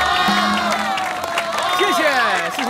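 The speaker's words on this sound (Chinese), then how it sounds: "谢谢大家送来热情的掌声" A crowd gathered at a sect assembly in a fantasy cultivation drama cheers and applauds, loud and continuous, with shouts and whoops rising over the clapping and voices mixed into the din.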